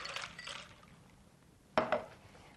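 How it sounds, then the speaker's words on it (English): A carbonated mixed drink is poured into a glass, with a soft liquid wash early on and then two sharp glassy clinks near the end, close and fairly quiet. "Pour it in like so."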